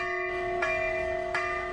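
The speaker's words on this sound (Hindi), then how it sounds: "ये वादियां गुलजार रहती हैं घड़ी घंटों की आवाज से" Temple bells in Uttarakhand ring with a sustained metallic tone, two clear strikes about three-quarters of a second apart, each refreshing the long humming resonance, loud and alone.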